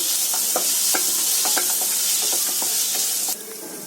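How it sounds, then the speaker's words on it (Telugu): Prawns sizzle steadily in a hot pan for a pepper prawn fry, with frequent clinks and scrapes of stirring over the constant hiss, then the sizzle drops in level near the end. "ఇప్పుడు ముందుగా పెట్టుకున్న ప్రాన్స్ ఇందులో వేసుకోండి. వేసుకొని 1 మినిట్ పాటు దీన్ని ఫ్రై చేసుకోండి."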